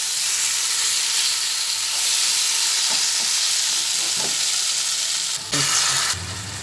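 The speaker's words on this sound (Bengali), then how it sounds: "ভালোভাবে কষিয়ে নিচ্ছি এভাবে দু তিন মিনিট মতো কষিয়ে নেব" Bottle gourd peel kofta curry masala sautéing in a pan gives a steady, loud sizzle with a few soft spatula scrapes, shifting in tone near the end as the stirring continues.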